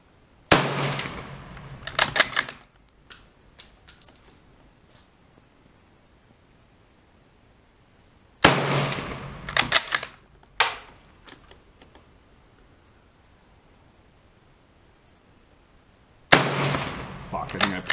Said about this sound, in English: So now we'll actually get to the shooting.